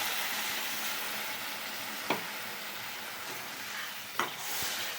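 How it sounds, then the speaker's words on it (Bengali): Spice paste with chilli powder fries in a pan after a splash of water, sizzling continuously while a spoon scrapes and stirs it in two distinct sharp strokes. "আমি একটু জল দিয়ে দিচ্ছি মশলাকে কষানোর জন্য"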